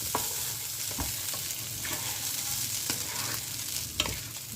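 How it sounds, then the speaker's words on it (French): Rice is stirred in hot fat in a pan for sausage and vegetable rice, a constant close sizzle punctuated by regular scraping taps of the spoon. "on mélange bien le riz pour l'enrober de matière grasse"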